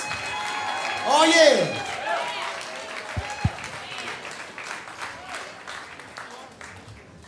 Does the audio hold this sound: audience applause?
yes